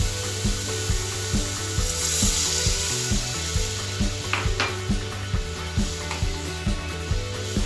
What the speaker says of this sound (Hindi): अब सारे मसालों को अच्छे से भूनेंगे जब तक पक ना जाए।